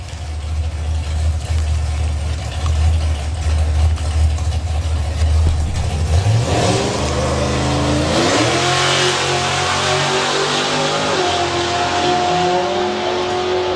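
Mitsubishi car and a dragster at a drag race, a low rumbling idle giving way midway to a rising, revving engine howl that climbs through several pitch sweeps, loud and continuous with no talk.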